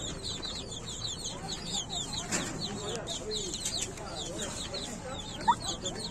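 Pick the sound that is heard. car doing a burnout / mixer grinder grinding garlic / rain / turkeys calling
turkeys calling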